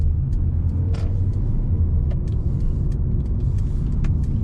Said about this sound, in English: This 4 cylinder doesn't make the most beautiful sound.